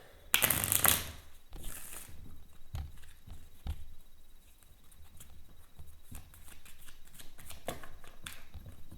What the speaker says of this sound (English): I'm going to give the deck a shuffle because why not?